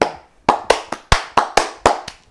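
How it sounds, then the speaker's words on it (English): One person claims a round of claps, about nine sharp, close hand claps in an uneven rhythm with brief silence between them and no talking. "Can we give him a clap?"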